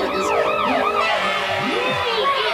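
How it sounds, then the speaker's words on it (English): Several overlapping fire engine sirens wail and sweep up and down in pitch, loud and close, blending into a continuous rising and falling tone. "That sounds like a fire engine."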